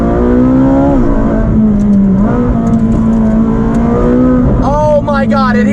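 Loud car exhaust rumbles steadily with the window down, a deep continuous drone close by, with people talking excitedly over it throughout.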